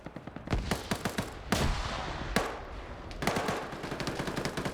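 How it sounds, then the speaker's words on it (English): Gunfire during a PvP video game match, rapid automatic bursts of loud, close shots with brief gaps between them and no talking. "Got some shooting on Spiegel here from Nemesis."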